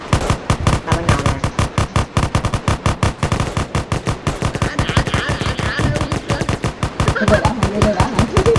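AK rifles fire in an online shooter video game as loud, close, rapid automatic bursts that continue almost without pause.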